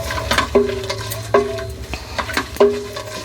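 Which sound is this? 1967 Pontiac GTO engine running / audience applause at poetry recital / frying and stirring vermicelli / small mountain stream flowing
frying and stirring vermicelli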